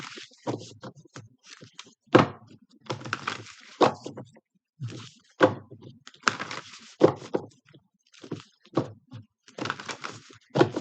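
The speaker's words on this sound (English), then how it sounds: "I'm only going to shuffle it a few more times here" Bursts of rapid papery riffling and soft slaps repeat in short clusters with pauses between, close and fairly loud, like cards being shuffled again and again.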